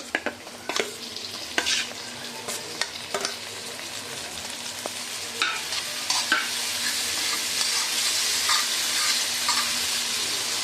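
Ripe country tomatoes and onions sauté in oil for a beachside fish curry, a bright continuous sizzle broken by repeated spoon scrapes and clacks against the pan, close up, the frying hiss building steadily with no talking.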